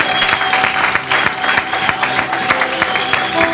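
Church congregation applauding, brisk close clapping from many hands in a steady burst, with faint voices mixed in.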